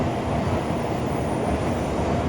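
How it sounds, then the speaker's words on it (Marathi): A Nozomi Shinkansen bullet train bound for Hiroshima via Nagoya stands at platform 19, giving off a steady, loud, broad rumble and hum of rail machinery with no voices over it. "7:48ची ही जी आत्ताची ट्रेन लागली आहे ती आहे."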